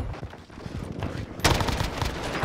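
Rapid automatic gunfire in the shooter game Warzone Rebirth, dense bursts of cracks that grow louder and busier midway, close and harsh, with no talk.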